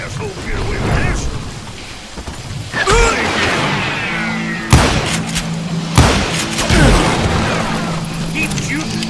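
Gunfire and dynamite blasts in the Western shooter Call of Juarez: Gunslinger, with sharp shots and two loud booming explosions among clattering game noise, while a voice talks over the action.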